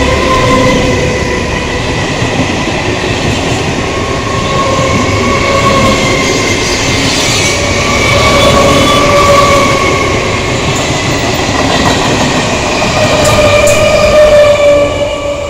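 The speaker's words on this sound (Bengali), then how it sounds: "31821 up Sealdah Krishnanagar city galloping local." A Sealdah–Krishnanagar City galloping local train passes near Shyamnagar station, a loud steady rumble of wheels and carriages with metallic screeching and rail clatter filling the whole stretch without talk.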